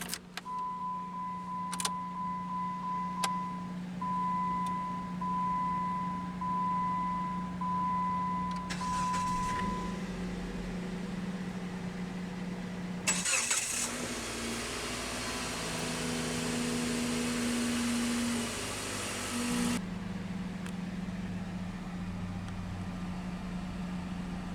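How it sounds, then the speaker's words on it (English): A 2008 Jeep Compass Sport is started from inside the cabin: a steady chime and key sounds, then a short cranking burst and the engine catching into a settled idle, quiet and close. "let's go ahead and start the engine"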